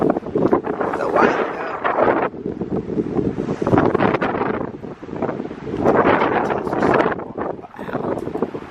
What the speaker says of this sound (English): I'm grateful for the breeze because it's hot as balls out here, but Do you feel that wind?